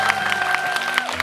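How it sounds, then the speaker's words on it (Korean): Audience applause at a Korean film talk event welcoming the director Hirokazu Kore-eda, steady dense clapping from a crowd, continuous and moderately loud with a faint tone running underneath. "박수 부탁드립니다."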